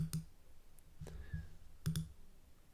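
A few crisp computer mouse clicks, close and isolated, arriving in small irregular pairs and singles against a quiet background.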